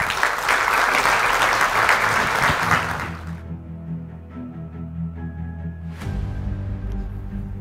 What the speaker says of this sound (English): please now give a warm round of applause for, I believe you called him, the brain behind the Maritime Forecast